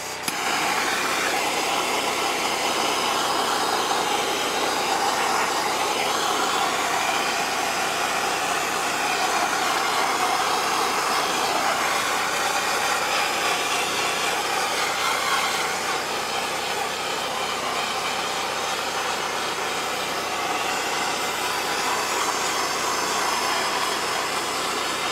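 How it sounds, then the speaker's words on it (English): A torch roars steadily and loudly, close up, as it cleans up a chainsaw-carved wooden perched hawk, a continuous broad hiss lasting throughout without pause. "now we'll hit it with a torch just to clean it up a bit."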